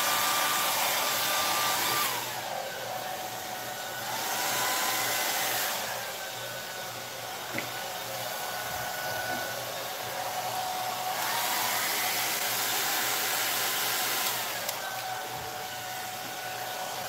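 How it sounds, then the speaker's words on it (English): A hair dryer blows steadily at close range over a large acrylic paint pour, its whooshing airflow rising and falling in strength as it is moved across the canvas. "I'm going to do this one with the blow dryer because it's kind of big"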